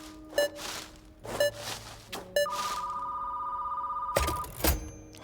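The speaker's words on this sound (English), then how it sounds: "Somebody's calling." A telephone in the HELLMART horror game rings in short repeated bursts, then a sustained electronic tone, with a few thuds between rings and no talk.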